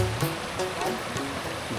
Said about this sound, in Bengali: ঝর্নার পানি নিচের দিকে যাচ্ছে দেখুন পাহাড় থেকে ওই সুদূর পাহাড় থেকে জন্মার পানি নিচের দিকে প্রবাহিত হচ্ছে